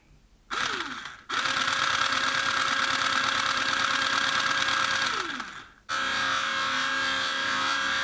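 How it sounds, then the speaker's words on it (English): A Hellcat motor in a Rapidstrike blaster on a 3S LiPo spins up with a quick whine, holds a loud, steady high-pitched buzz for about four seconds, then winds down before a second burst starts. "So this is a Hellcat running on 3S, and this makes quite a noise"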